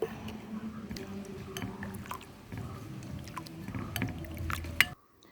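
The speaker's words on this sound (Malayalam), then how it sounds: "ആവശ്യത്തിന് വെള്ളവും ചേർത്ത് നന്നായി ഇളക്കുക." Water mixed into curd with curry leaves and salt for spiced buttermilk, a continuous soft liquid sloshing and stirring with small clinks, ending abruptly in near silence.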